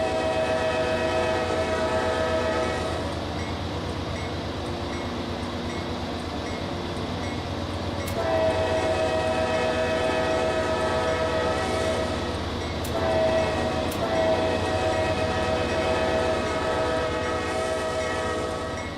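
A CSX locomotive in the Trainz railway simulator rumbles steadily with rolling wagon noise, sounding several loud, sustained horn blasts, the longest starting mid-way and more following near the end.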